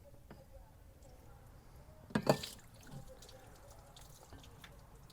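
Water trickles and drips through a cleared drain hole on a Fiat Punto HGT during detailing, with a brief louder splash midway and faint dribbling around it.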